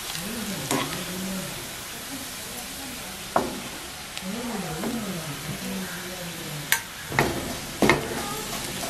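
Tiny dried prawns and dried red chillies dry-frying in a pan, a soft continuous crackle and scrape of stirring with a few sharper taps of the utensil against the pan, and a low voice faintly in the background.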